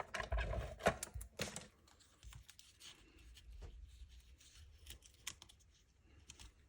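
Scissors snipping through paper while trimming a piece for a scrapbook layout, several sharp cuts clustered near the start followed by quieter handling and rustling, close and fairly faint.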